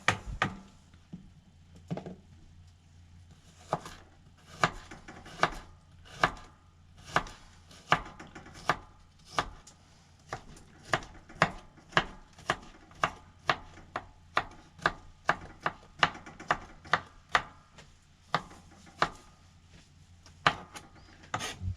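A big garlic clove being chopped on a board, a long series of sharp, close knife strikes at an uneven, quickening rhythm.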